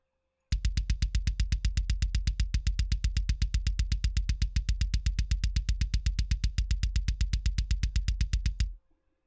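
Rapid, evenly spaced 16th-note clicks from a metronome-like source, dozens of sharp identical ticks in a steady fast pulse. They sound alone at moderate level and stop abruptly.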